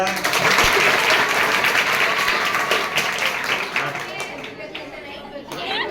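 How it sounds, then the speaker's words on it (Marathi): Strong audience applause mixed with chatter fills a room at a social awareness gathering, loud at first and tapering off toward the end. "जोरदार टाळ्या."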